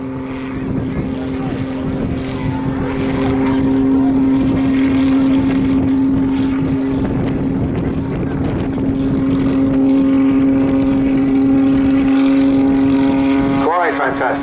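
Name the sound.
Pitts Special muscle biplane flying at an airshow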